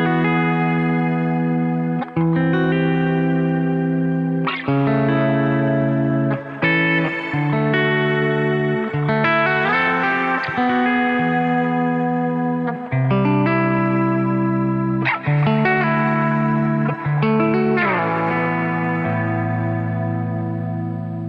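Clean electric guitar chords from an Epiphone Les Paul Custom through an amp's clean channel with compressor, ring out with lush reverb and echoing delay, steady and sustained throughout with no voices.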